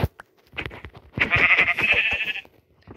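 A sheep in the Minecraft video game bleats loudly and close, a wavering nasal cry of about a second, preceded by brief game clicks and soft steps.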